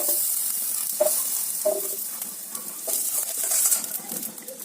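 Steady oily sizzling of onions frying in sesame oil in a pan, with occasional light stirring clinks, close and continuous.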